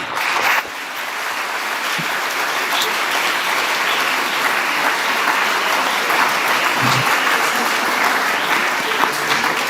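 Sustained applause from a large audience at a college convocation, a dense, steady wash of clapping that stays loud for nearly ten seconds with no voices over it.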